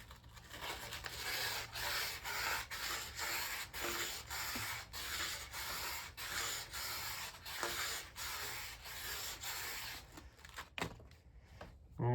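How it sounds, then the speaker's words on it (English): A pole clamp being sanded by hand, with steady back-and-forth rubbing strokes in a rapid rhythm that stay close and fairly loud, then a few scattered knocks as the sanding stops near the end. "I'll sand this out for you."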